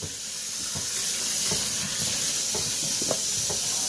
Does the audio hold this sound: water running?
yes